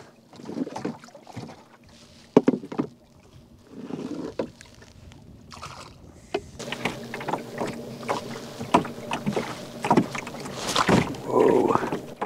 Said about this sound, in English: And I'll just keep bailing out the boat while I'm doing this.